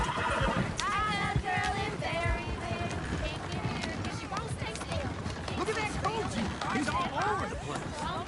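Horses whinny and neigh repeatedly in the Red Dead Redemption 2 video game, loud and close, over a steady, dense bed of galloping hooves and general commotion, with voices mixed into the din.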